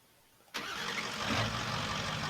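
A pickup truck engine in the welding video game EZ Money Welding Co. cranks and catches abruptly, then settles into a steady, close idle that swells slightly as it revs up.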